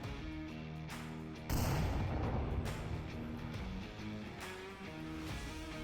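A grenade goes off with a sudden booming blast partway through, set in the VR shooter game Onward during a competitive match, standing out over a continuous background of game sounds.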